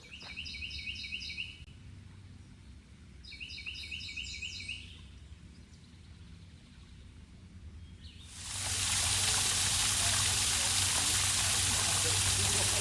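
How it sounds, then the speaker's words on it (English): Forest scene at Illini State Park after morning rain: quiet ambience with repeated bird chirps, then a waterfall's loud steady broadband rush abruptly takes over and continues to the end. "We had a decent rainfall this morning, so some of the waterfalls that normally wouldn't be falling are today."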